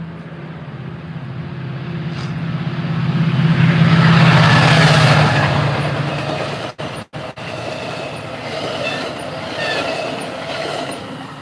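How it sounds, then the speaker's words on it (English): A train passes close by outdoors, its loud rumble swelling to a peak and then easing off, with wheel squeal and clatter on the rails and no talk over it. "Look, here comes the train."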